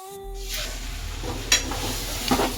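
Sizzling frying of a winter vegetable bhaji (bhogi bhaji) after adding spice masala, a steady moderate sizzle with a couple of sharp stirring scrapes and crackles, no talk.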